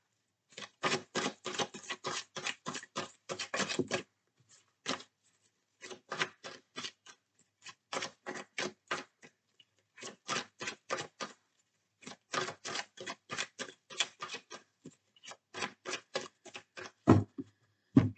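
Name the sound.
shuffling oracle cards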